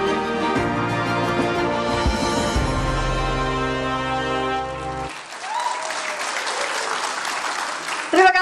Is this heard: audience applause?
yes